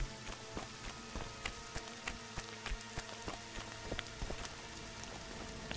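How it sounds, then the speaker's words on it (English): Steady rain patters down in the video game The Witcher 2, with scattered sharper drops tapping a surface throughout, close and fairly soft, no voices. "Why is it raining?"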